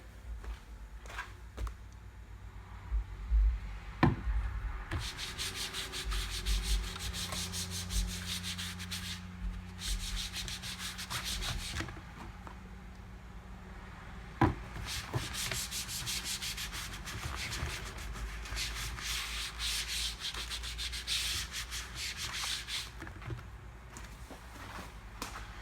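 A microfiber applicator rubs a water-based dressing mixed at a 2-to-1 ratio onto clean, dry plastic car trim, making steady close scrubbing strokes in long bursts with short pauses between passes.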